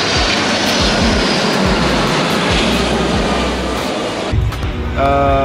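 A loud airplane roars close overhead above a beach on Saint-Martin as it arrives, its engine noise sweeping past and dropping off, then a steady hum remains.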